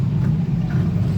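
A van with a disintegrated wheel bearing creeps along at near walking pace, its metal-on-metal grinding merged into a continuous loud, low rumble and road drone with no voices.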